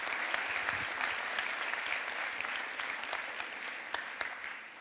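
Conference audience applauding on request during a keynote, a steady wash of many hands clapping at moderate level for several seconds, with no speech over it.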